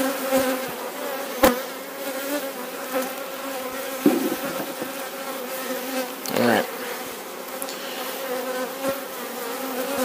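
Honey bees drone around a beekeeper just after a big blast of smoke during a hive inspection, a close, steady buzzing with harmonic hum, broken by a few sharp handling knocks and rustles.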